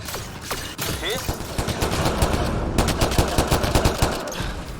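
Rapid gunshots in the sci-fi video game Mass Effect: Andromeda, starting as scattered shots and building into a dense, rhythmic burst of fire over a loud, busy game background.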